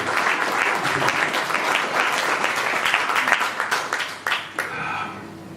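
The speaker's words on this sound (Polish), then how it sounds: "Wielkie brawa." Audience applause fills a small cultural hall at a 2014 concert in Kleszczewo, a dense, steady roar of many hands that thins near the end into a few separate, louder claps.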